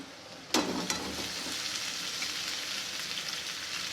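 Boiled potatoes tipped into a pan of sizzling spice mix with lemon juice for a Gujarati fasting dish, giving a sharp burst of sizzle, then a steady, close frying hiss with no talking.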